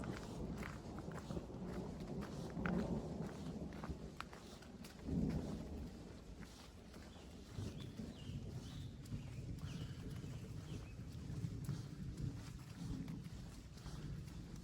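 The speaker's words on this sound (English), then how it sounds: "yeah, that's the thunder that's chasing me." Rolling thunder rumbles low and broad between rain squalls on a trail with stone walls, a steady dull roar with a louder swell around the fifth second, mixed with rustling like footsteps.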